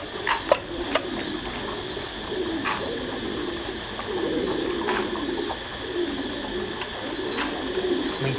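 Meat-breed pigeons coo in low, rolling repeated calls at a coop where a pair is set on a scale, with occasional sharp knocks and clicks mixed in.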